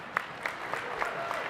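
A convention audience gives light, scattered clapping at a labour federation gathering, with a few distinct claps standing out over a soft wash of applause and faint murmur in the room.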